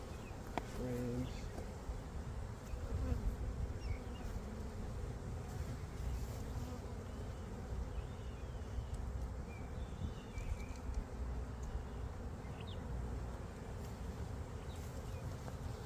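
Honey bees buzz around an open hive with frames of pollen, honey and brood, a faint steady hum with occasional closer passes over soft background noise.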